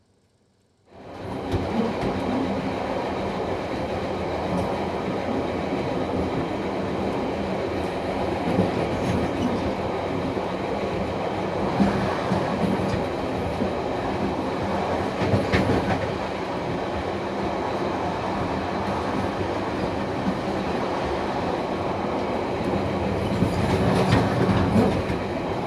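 Excursion train behind DC 4818 heard from inside a carriage, a steady loud rumble of wheels on rails with faint rhythmic clatter and occasional squeals throughout, no talking.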